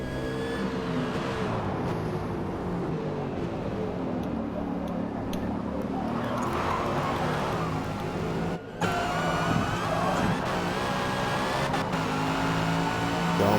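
Toyota Supra race car engine in the Forza video game during a supercar race at Hockenheim, a steady loud droning engine tone that climbs and shifts through gears with a brief cut, under commentary.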